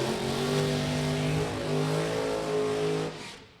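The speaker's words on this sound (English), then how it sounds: "the Alcohol Funny car, first pair, already doing their burnouts" Alcohol Funny Car drag racers doing burnouts at Route 66 Raceway: a loud, steady engine roar with strong harmonic drone, holding for a few seconds before tailing off at the end, with no voices over it.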